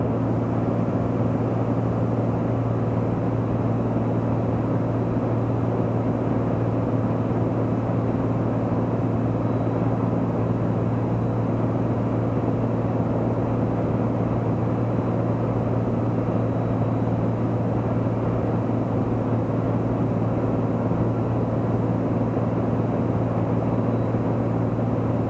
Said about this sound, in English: there's somebody taxiing